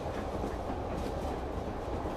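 An electric commuter train rolls along steadily, a dense continuous rumble with faint rhythmic clatter from the wheels, heard from inside the carriage with no voices.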